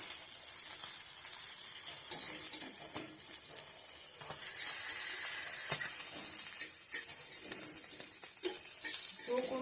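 Tarli fish frying in oil gives a soft, continuous sizzle with scattered spatters and light utensil clicks, fairly faint and steady, with some watery running-tap-like texture beneath.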